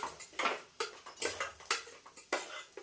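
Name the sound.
stirring masala into Maggi noodles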